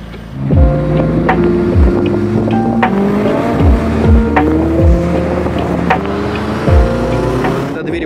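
A rented hypercar heading out toward the desert, its engine rising and falling through repeated gear changes with sweeping pitch shifts, loud and close with road roar underneath.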